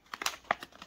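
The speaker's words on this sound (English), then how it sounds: "There's a Ziploc pouch." Plastic crinkles as a Ziploc pouch holding a Valken M17 adjustable foregrip is opened, a quick burst of sharp, close rustles and crackles lasting about a second.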